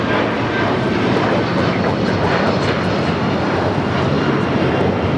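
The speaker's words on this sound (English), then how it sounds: "2347 taking off to Chicago on the 757-300." A United Airlines Boeing 757-300 jet on its takeoff roll at Los Angeles International, bound for Chicago, giving a steady, loud broadband engine roar that holds unbroken and close throughout.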